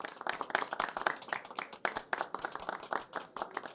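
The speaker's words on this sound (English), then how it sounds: "Let's give a round of applause, and please don't be shy." An audience applauds for Luca Romanetti, a brisk burst of many hands clapping close and dense for a few seconds, with no voices over it.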